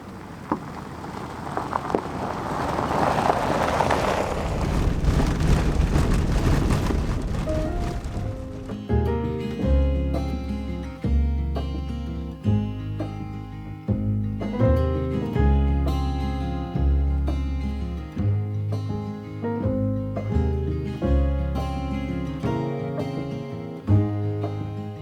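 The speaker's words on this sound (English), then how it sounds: "it has been raining basically the entire time." Rain hisses in a steady wash while a vehicle drives Arizona backroads, filling the opening seconds before music takes over and covers it.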